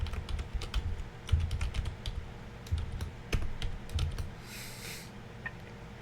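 Close, quiet typing on a computer keyboard, irregular bursts of key clicks and clacks over about six seconds with no voices.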